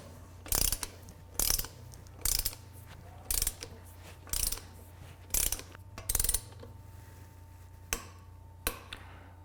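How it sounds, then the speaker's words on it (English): A torque wrench tightens a bicycle crank bolt on a three-piece square-spindle crankset, ratcheting with about ten crisp, close metallic clicks at a fairly steady pace and nothing else heard. "The wrench has clicked."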